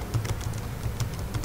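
Keys clatter on a computer keyboard as a hostname is typed in during server network setup, a quick irregular run of close, light taps with short pauses between bursts.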